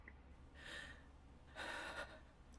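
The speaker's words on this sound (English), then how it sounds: "Now take a breath. A deep one." A person draws two slow, deep breaths, each a distinct inhale heard up close in a quiet room, with a short pause between them and no speech.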